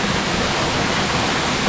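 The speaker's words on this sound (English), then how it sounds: "There's a second smaller waterfall over there." A waterfall on São Miguel in the Azores roars as a steady, dense wash of falling water, loud and continuous throughout with no break or change.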